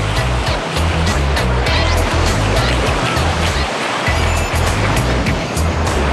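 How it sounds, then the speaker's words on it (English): Ocean waves breaking at Bondi Beach, a loud, steady wash of surf with low rumbling pulses running throughout. "Come on, let's go get in the waves."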